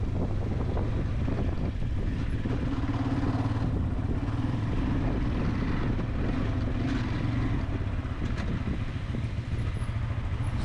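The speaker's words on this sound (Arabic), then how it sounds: "هذه بعض اللقطات حطيتها ديال الموتور القديم" Engine of an old motorcycle running steadily throughout a ride, a continuous low rumble heavily buffeted by wind noise across the microphone, with no talking.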